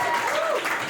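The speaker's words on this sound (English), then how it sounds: "Thank you for applauding yourself." An audience at a live comedy show applauds, a brief one-second wash of steady clapping with a voice rising over it.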